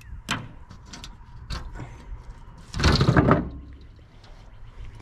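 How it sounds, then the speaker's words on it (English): Latches and locks on the large rear ramp doors of a toy hauler camper converted from a fifth wheel are worked, giving several sharp metallic clicks and clacks, then a louder rattling, scraping burst near the middle, with low background rumble. "We use these locks to lock the big doors."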